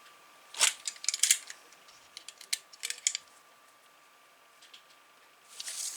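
Scissors snipping a 3 cm wide strip of paper for a handmade Harry Potter album, a few crisp close cuts in short bursts with quiet gaps between, no talking.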